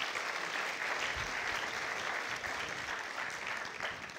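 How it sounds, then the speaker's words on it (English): An indoor event audience applauds volunteers with a steady, dense clapping that holds for several seconds and fades slightly at the end. "a big round of applause for you guys"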